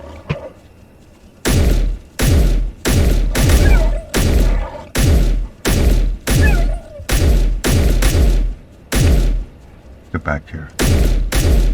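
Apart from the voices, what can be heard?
gunfire in video game Space Engineers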